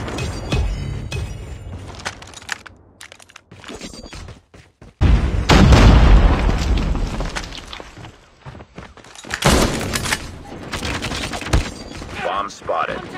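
A bomb blast in a first-person shooter game, part of a running firefight: loud bursts of gunfire and impacts, with the biggest broadband explosion hitting about midway and more shots afterward.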